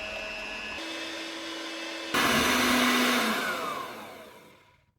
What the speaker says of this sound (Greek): Θα χτυπήσουμε τα αυγά μαζί με τη ζάχαρη ώσπου να αφρατέψουν, να πάρουν άσπρο χρώμα.